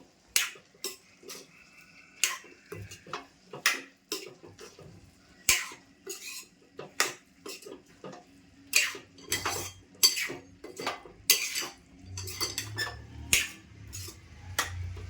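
A spoon stirs a dry potato and bean pod vegetable in a pan, Malvani style. Repeated sharp metallic clinks and scrapes sound close by in an uneven rhythm, with a low burner hum joining near the end.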